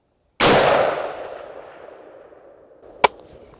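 A single loud, close rifle shot from an AR-47 firing Hortony Black 7.62x39 ammunition at an outdoor range, with a long decaying echo and a sharp clank about two and a half seconds later.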